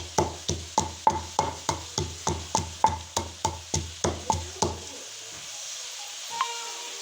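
Ground green chilies being stirred into a pan: about a dozen evenly spaced scraping knocks of a utensil against the pan, close and rhythmic, then stopping into near silence.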